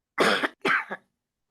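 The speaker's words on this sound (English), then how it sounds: "I'm sorry, I had to cough." Two quick throat-clearing coughs, close and fairly loud, the second slightly shorter, followed by silence.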